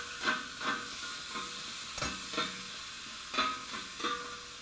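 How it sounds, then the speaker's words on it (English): Cheeseburger patties chopped with a metal spatula on a hot griddle, a rhythmic series of scraping clacks over a steady background sizzle, close and clear with no talking. "Notice we're chopping the patties, not the cheese."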